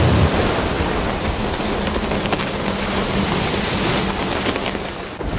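A heavy thunderstorm with dense, steady roaring rain and low rumbling thunder, loud and continuous throughout with no voices.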